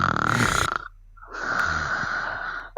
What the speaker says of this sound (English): Oh, right, she snores.